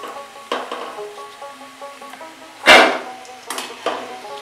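Cauliflower kachori deep-frying one at a time in a small amount of oil, with soft sizzling crackle broken by a loud close clatter and several shorter bursts of spatter and utensil knocks.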